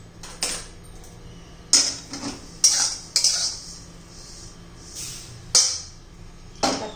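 A metal spoon scrapes and clinks against a pan while roasted barnyard millet is scooped out, giving about eight sharp, close clanks at irregular intervals over a quiet background.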